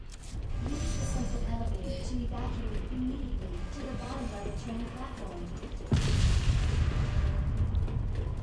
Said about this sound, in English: was that explosion Mr. X? Like when he busts through the wall?